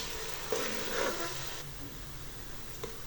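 Onions fry in ghee in a pot for beef korma, a steady moderate sizzle with a brief louder crackle near the start and a soft utensil tap toward the end.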